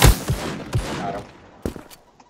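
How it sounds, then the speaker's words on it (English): Revolver fire in a shooting video game: a burst of punchy, close shots in quick succession at the start, then a couple of softer, scattered reports as the sound fades toward quiet. "that's with the revolver that does a lot of damage"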